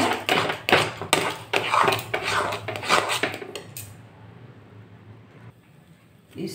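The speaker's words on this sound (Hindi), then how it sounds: "इसे इस तरह से लगातार चलाते रहना है जब तक कि यह अच्छी तरह से डो की तरह तैयार ना हो" A spoon scrapes and knocks against a kadhai while semolina dough is stirred, a close run of rhythmic metallic clinks and scrapes for about four seconds before it goes quiet.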